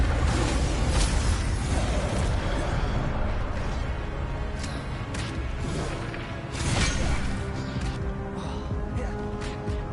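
The Incendio fire spell is cast in the video game Hogwarts Legacy, a dense, loud roar of whooshing flames and blasts filling the stretch, with surges and crackling bursts layered over game sound.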